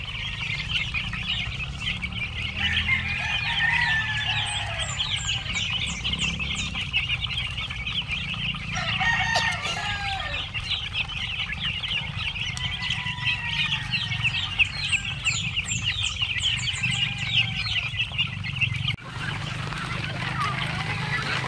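A flock of chickens and young chicks in a range area at afternoon feeding keeps up a busy, continuous chorus of clucks, chirps and calls close by.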